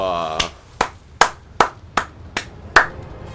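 Seven sharp claps in slow, even succession in the game Hearthstone, each ringing briefly before the next, fairly close and clear.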